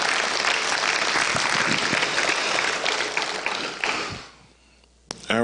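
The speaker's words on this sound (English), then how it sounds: "Let's give God another hand clap of praise." Congregation giving a hand clap of praise at a memorial service, sustained applause from a crowd that thins and fades out near the end, followed by a couple of sharp isolated taps.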